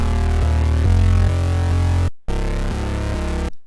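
Thick square-wave bass synth patch built in Serum with low-detune unison, playing a loud sustained bass line of shifting held notes, cut briefly by a short silence before resuming alone.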